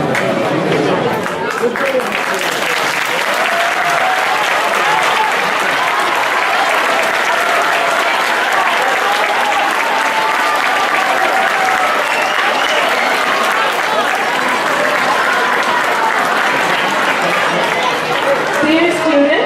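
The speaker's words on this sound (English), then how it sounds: "Dear students, a very big applause for Med." Students applaud a top marathon runner at a school event, loud continuous clapping with crowd chatter and cheering throughout, heard up close.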